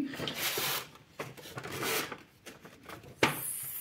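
Ribbon pulled through the back of a brown paper envelope gift bag, giving soft rubbing rasps in several bursts and a sharp paper crinkle near the end, close and moderately quiet.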